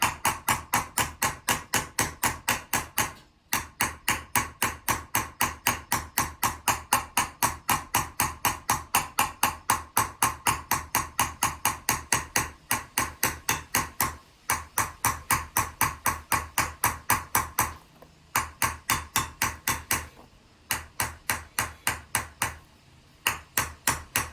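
A metal vessel being hammer-chased to deepen a concave curve: a rapid, even series of sharp metallic taps, close and steady, broken by a few brief pauses before the rhythm picks up again.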